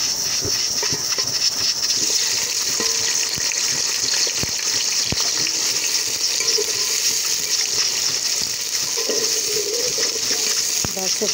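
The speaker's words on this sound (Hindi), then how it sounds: "ये देखिए करेले फ्राई हो रहे हैं" Bitter gourd frying in ghee with minced meat in a pan gives a steady loud sizzling hiss with occasional pops and stirring clinks throughout.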